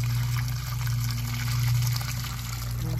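Water gushes steadily into a turtle pond as fish are poured in, a loud, continuous rushing wash over a low steady hum, close and unbroken, with no voices.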